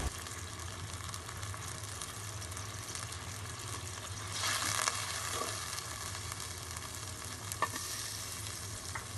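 Chicken tehari is stirred in a pan with salt and spices, giving a faint steady sizzle with a brief louder burst of frying midway and occasional light scrapes of a spoon.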